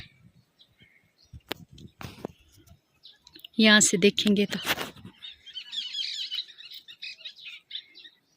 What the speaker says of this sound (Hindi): वो चिड़ियों की आवाज़ें देखो, च्यूं च्यूं च्यूं च्यूं च्यूं च्यूं